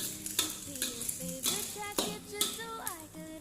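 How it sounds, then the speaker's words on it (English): Fried rice ingredients are stirred in a frying pan. Quick clattering scrapes and taps sound over a light sizzle, with faint tonal sounds beneath. "After that, we stir all the ingredients like this."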